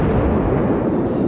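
Battleship guns fire shells in World of Warships, a loud, dense, sustained low boom and rumble that fills the whole short moment with no break, heard up close with no talking.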